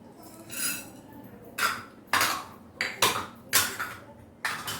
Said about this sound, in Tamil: இப்போ கடலைப்பருப்பும் உளுத்தம்பருப்பையும் போட்டுடுவோம்.